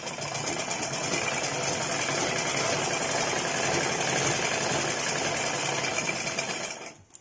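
Sewing machine stitching a choli cut blouse, running in one continuous loud steady whir for about seven seconds before stopping abruptly.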